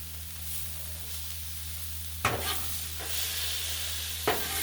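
Onion, celery and pepper fry on a Blackstone griddle with a steady, close hiss. Two sharp scraping strokes of a spatula cut through the sizzle partway along.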